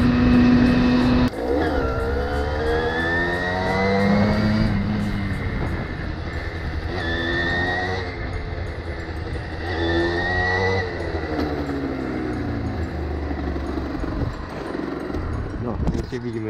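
A Derbi Senda 50 motorcycle rides along with a steady, loud engine drone that rises and falls in pitch through repeated gear changes and revs, continuous throughout with no talk.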